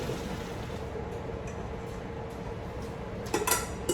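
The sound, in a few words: dumping cooked noodles into a colander in the sink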